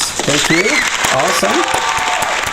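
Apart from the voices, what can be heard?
round of applause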